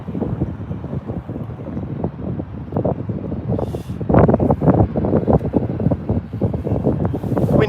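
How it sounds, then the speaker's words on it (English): Gusting wind buffets a microphone outdoors at an airport, rough low-pitched rumbles and thumps that swell noticeably stronger halfway through. "Wind is picking up here, guys, so apologies."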